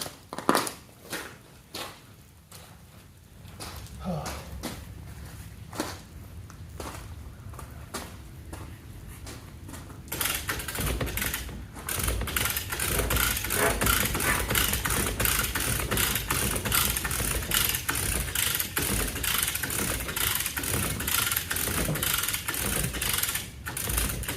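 A chain fall hoist pulls a shed onto a trailer: irregular clanks and ratcheting clicks at first, then a loud, continuous grinding and scraping rumble, with no talk.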